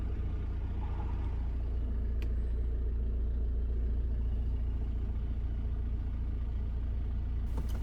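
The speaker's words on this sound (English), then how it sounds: "The engine starts immediately." A 2017 VW Passat engine idles steadily after starting, a low continuous rumble that holds level throughout with no voices.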